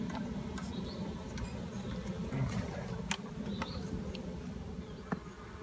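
Honeybees buzzing at an open beehive being inspected, a continuous close hum with scattered clicks and taps throughout, no talk.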